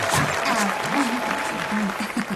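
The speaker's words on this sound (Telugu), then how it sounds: "కొట్టండి రా చప్పట్లు" A crowd of villagers claps together in a sustained burst of applause, steady and fairly loud throughout, with a few voices faintly audible underneath.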